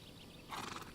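A horse neighs in Pathfinder: Kingmaker during a bandit fight, a short bright whinny that bursts out over a steady background of battle noise.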